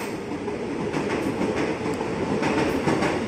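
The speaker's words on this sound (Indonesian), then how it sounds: "Ini dia komuteran tujuan Jakarta Kota terdiri dari 8 kereta." An eight-car commuter train arrives at Depok station, rumbling past with steady roaring noise and faint rhythmic clatter of wheels, loud and continuous throughout, no voices.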